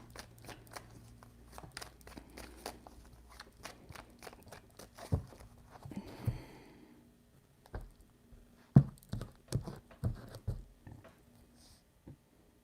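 Tarot cards being shuffled by hand in a quiet room, a string of soft crisp riffles and taps with a brief flurry midway, close and faint, with no talking.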